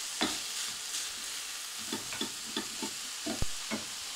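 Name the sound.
stirring and frying ground beef with turmeric in a pan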